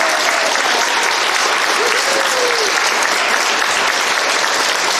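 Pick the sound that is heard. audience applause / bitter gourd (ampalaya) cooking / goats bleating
audience applause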